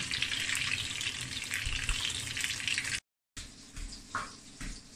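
Food frying gently over low heat gives a steady, soft sizzling hiss for about three seconds. After a brief silence, quieter sizzling resumes with a few faint bumps and clatters.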